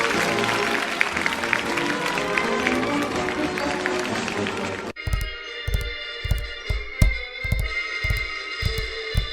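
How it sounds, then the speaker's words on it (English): Audience applause for a circus-style stunt performer, a dense continuous clapping wash for the first half, then giving way to sharp separate thumps and music-like tones. "Let's applaud him."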